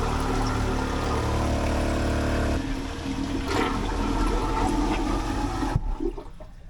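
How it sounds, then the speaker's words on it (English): An electric toilet aboard a sailboat runs and flushes: a loud mechanical hum with rushing water that shifts partway through into gurgling and churning, then cuts out and leaves quieter trickling at the end. "Success! We have an electric toilet."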